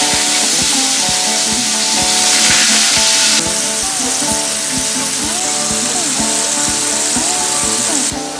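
Sliced deer heart frying in butter in a pan, a loud, continuous close sizzle that swells and persists across the whole stretch, with faint tool clatter beneath.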